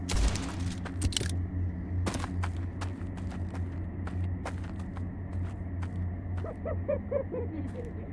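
Sharp gunshots ring out in the first-person shooter Blood West, a few scattered loud cracks over a steady low game ambience, with faint footsteps and a voice speaking quietly between shots.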